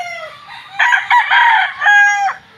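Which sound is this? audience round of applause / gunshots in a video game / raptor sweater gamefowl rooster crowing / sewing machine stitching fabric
raptor sweater gamefowl rooster crowing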